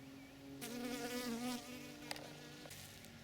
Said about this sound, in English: There's a honeybee.